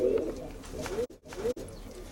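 Pigeons cooing close by in low, throaty repeated phrases, with a couple of brief pauses between calls.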